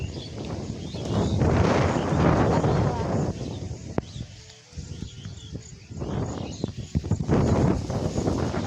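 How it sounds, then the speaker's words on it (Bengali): Strong outdoor wind gusts buffet the microphone in heavy rumbling surges that ease briefly mid-way and then return, with voices talking underneath. "বাইরে কত হাওয়া দিয়েছে"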